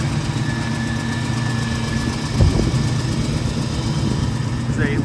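A 1973 Ford Mustang Mach 1 with a factory 351 Cobra Jet V8 and four-speed idles steadily nearby, a continuous low rumble with a small bump midway.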